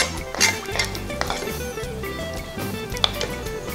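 Chicken in cream sauce being stirred in a pan, with soft clinks of a utensil against the pan and faint wet squishing, close and moderately quiet, no talking.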